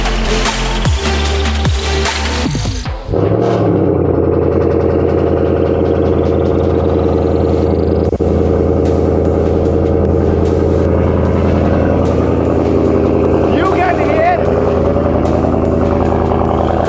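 A Ford Mustang GT500 engine cranks and fires up, then settles into a loud, deep, steady rumbling idle that runs on close by with no voices over it.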